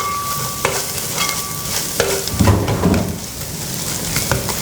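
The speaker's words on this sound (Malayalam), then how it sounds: "ഈ ജിഞ്ചർ ഗാർലിക്കും കൂടി ഒന്ന് ഫ്രൈ ആവണം. ഒന്ന് ഇളക്കി കൊടുക്കാം നന്നായി." Ginger and garlic sizzle in hot oil with browning onions while a spoon stirs them. The frying crackle is loud and close, and scraping strokes break through it.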